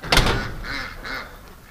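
Ducks crowded at a gate at a large duck rescue, giving a few loud, close quacking calls in quick succession, with a louder burst at the start followed by two softer repeated calls.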